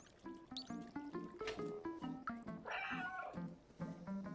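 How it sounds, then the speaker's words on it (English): A cat meows repeatedly in the video game Stray over gentle, cute game music with trickling, watery ambience, with short meows coming in a quick rhythmic series. "The bartender smiles when you meow at him."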